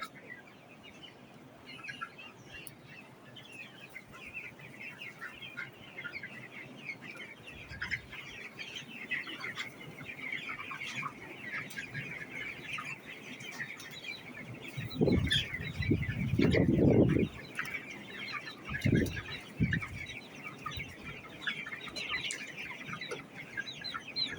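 Chickens at a large poultry farm cluck and chirp continuously, a busy chorus of many birds nearby, with louder bursts of clucking and a few wing flaps in the middle.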